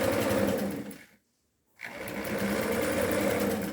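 A sewing machine stitches in a fast steady run, stops briefly, then runs again in reverse to backstitch, close and clear with no talking.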